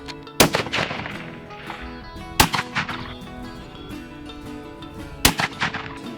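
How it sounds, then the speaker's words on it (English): Three sharp, loud .30-06 rifle gunshots, each a hard crack followed by a ringing decay, spaced a couple of seconds apart, with no talking. "I do think I'm going to shoot with the 30-06"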